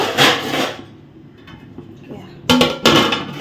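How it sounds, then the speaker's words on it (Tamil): A lid clatters onto a pot of liver gravy with two quick close knocks near the end, following a brief rustle and a quiet pause. "இப்போ இதை வந்து நம்ம மூடி வச்சிடலாம்"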